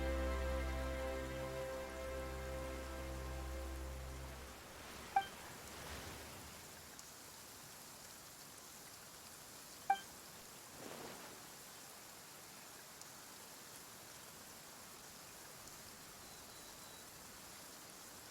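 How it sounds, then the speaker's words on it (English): Rain falling in Genshin Impact, a soft steady hiss of drops that starts after a sustained musical tone fades, quiet and even throughout, broken by a few faint clicks. "Why is it raining all of a sudden?"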